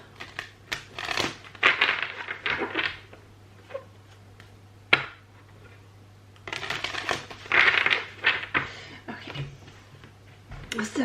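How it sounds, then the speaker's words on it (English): Tarot cards being shuffled by hand, a series of crisp riffling and slapping bursts in two main flurries with quieter taps between, close by and fairly faint. "Just gonna give these another couple of shuffles."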